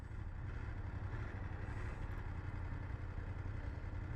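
A 2024 BMW F 800GS motorcycle idles close by, its engine holding a steady, even rumble with a slightly gruff note and no revving.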